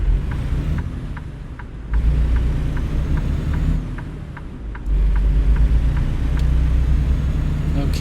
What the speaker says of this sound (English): Let's wait for this car to pass us so we don't crash into him trying to pull out.